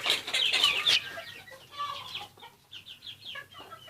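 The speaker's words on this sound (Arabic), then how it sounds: "فرخة جوه اهي" A hen clucks nearby in a nest box in short, soft bursts, a busy run of clucks at first, then quieter scattered ones.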